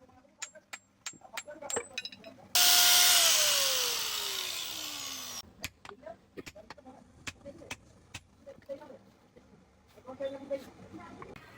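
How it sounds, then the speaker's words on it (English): A loud, harsh grinder whine from a grinder fitted with a new blade in a blacksmith shop cuts in for about three seconds, then tapers off, surrounded by scattered clanks and knocks before and after. "Grinder setting a new blade."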